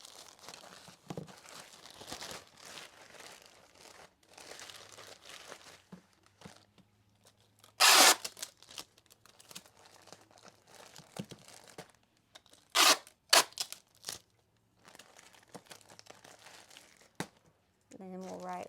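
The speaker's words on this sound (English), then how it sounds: "I'm gonna tape it up." Clear packing tape pulled off the roll and pressed onto a USPS poly mailer holding clothing, giving loud ripping screeches and crinkling plastic in short bursts, close up, with a person talking at times.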